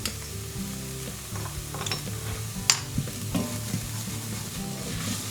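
Garam masala, turmeric and pepper toasting with softened onion in a pan for a vegan green bean curry, a steady close sizzle with intermittent spatula scrapes and one sharper clank.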